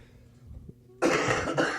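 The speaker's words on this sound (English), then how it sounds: "You done coughing? Please excuse my cough, everybody." A single loud, close cough bursts out after a second of quiet low murmur, followed by a second rasping cough.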